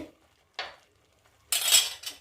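Three short bursts of a metal utensil scraping and clinking against a pot of green peas curry being stirred, the last one loudest, with quiet pauses between.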